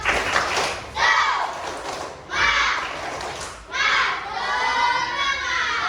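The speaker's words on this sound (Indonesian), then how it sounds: "Masih ingat tepuk semangat? Tepuk semangat." Children in a classroom doing the tepuk semangat rhythmic clapping chant, bursts of claps and thumps alternating with loud group shouting and chanting voices, close and lively.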